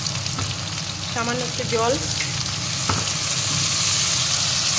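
Ground cumin, chili and turmeric powders sizzle steadily in hot oil in a pan while being stirred for a Bengali chicken curry with spring onion, close and continuous, with someone speaking briefly over the frying.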